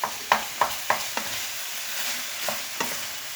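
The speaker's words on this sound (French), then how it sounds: "On fait revenir l'oignon." Onion frying in a pan for homemade lasagne, with a soft continuous sizzle and a series of sharp scraping stirs of the utensil, about half a dozen quick strokes close up, no talking.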